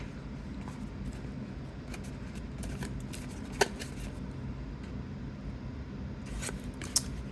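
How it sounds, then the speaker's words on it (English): Scissors snip paper while a journal is trimmed from a paper towel tube, a few brief sharp cuts, one louder snip near the middle, over a steady low background hum. "I'm going to kind of angle my scissors a little bit."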